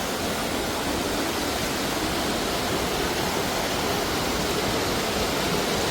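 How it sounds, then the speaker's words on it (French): An alpine waterfall on a mountain hike roars as a loud, steady, broadband rush of falling water, heard close and constant with no talk. "Waouh, la cascade, on y est!"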